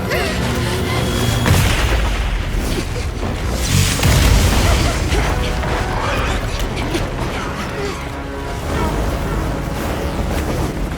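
Booming cannon or artillery blasts from Monster Hunter Wilds, heavy low thuds repeating over a dense, loud bed of game music and effects for about eleven seconds.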